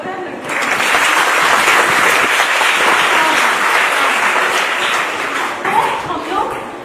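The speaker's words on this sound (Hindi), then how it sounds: "तालियां बजा दो यार लड़के" A crowd at a self-defense training program for girls bursts into loud, sustained applause that fills nearly seven seconds before easing slightly at the end, with no voice over it.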